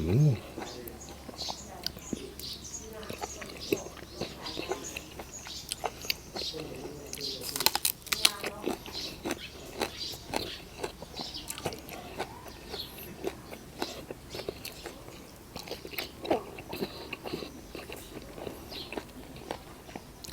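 Crunchy blanched squid, served with seafood dipping sauce, being chewed close up: soft, irregular crunching and biting under steady conversation, with one louder burst of crunches midway.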